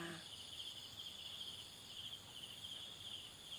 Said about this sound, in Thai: มีแมลงบินอยู่นะคะ